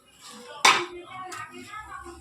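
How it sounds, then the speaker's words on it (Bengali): Stirring food in a cooking pot on a gas stove while rice boils: one sharp scrape of a utensil against the pot, a softer second scrape, and low clatter between. "একটু নেড়ে দিই"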